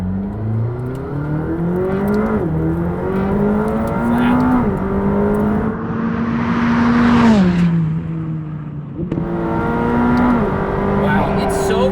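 A McLaren 620R race car revs and accelerates up through the gears, the engine note climbing, dropping at each shift, then climbing again. It is heard from inside the cabin, and voices speak briefly over it.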